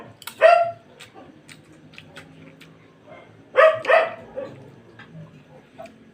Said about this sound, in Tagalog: Hingay ng aso natin.